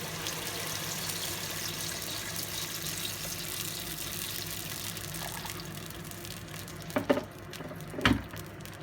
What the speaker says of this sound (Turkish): Şimdi içerisine bir miktar sıcak su ekliyoruz.